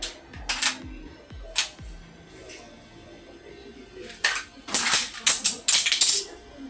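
A pistol magazine is inserted during a dry-fire reload drill, heard as close, sharp plastic-and-metal clicks and knocks in short bursts separated by quieter pauses.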